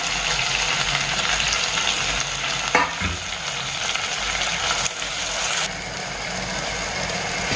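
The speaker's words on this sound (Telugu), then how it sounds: "వేసేసి బాగా వేయించాలి." Chopped green chilies and tomatoes frying for chicken biryani, a steady loud sizzle with occasional stirring scrapes and a louder clatter midway, no talk.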